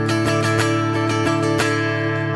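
Guitar played through a Fractal FM9 preset with its graphic EQ switched off: loud, rhythmic strummed chords with sharp attacks over a sustained ringing tone.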